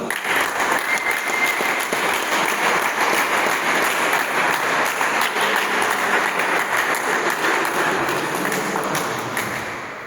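Steady, dense applause from a crowd, sustained loud clapping for about ten seconds that thins slightly toward the end, with no clear talk over it.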